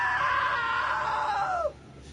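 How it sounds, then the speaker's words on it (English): A loud, drawn-out scream from a character in the video game What Remains of Edith Finch, lasting about a second and a half before sliding down in pitch and cutting off, with a quiet background afterward. "Now that was a great scream."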